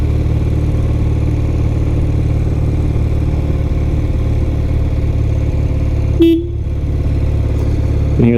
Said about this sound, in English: And here the horn works great.